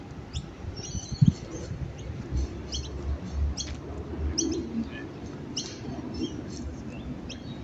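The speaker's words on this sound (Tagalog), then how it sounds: "daming mga ibon" A flock of pigeons and other birds in a city park, scattered chirps and tweets with soft cooing over a low urban rumble, fairly distant and moderately quiet.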